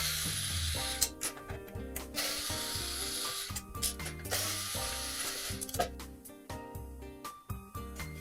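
Screws are backed out of an Xbox 360 console casing with a hand screwdriver, giving repeated close, crisp ratcheting clicks in short bursts over quiet room tone.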